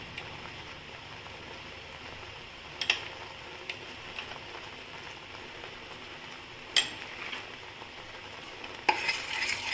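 Paneer masala being stirred in a pan, a soft bubbling simmer broken by a few sharp spoon clacks and scrapes against the pan, close and without talking.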